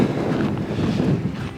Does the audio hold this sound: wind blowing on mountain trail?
yes